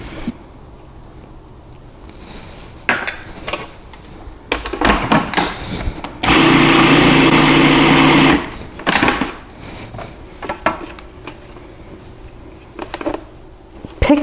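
A food processor whirls pastiera crust dough in one loud, steady two-second burst, surrounded by clattering of the bowl and lid handling before and after.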